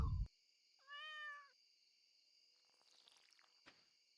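A single clear cat meow rises and falls for about a second in a quiet setting, with faint steady insect-like chirring and a few soft clicks around it.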